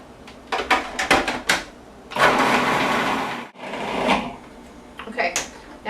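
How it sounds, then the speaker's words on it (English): A food processor grinds garlic with salt, a broad whirring blend that runs steadily for a couple of seconds, pauses, then picks up again, with short bursts and clatters around it near the start and end. "I'm going to add it to the food processor with some salt and just let it go"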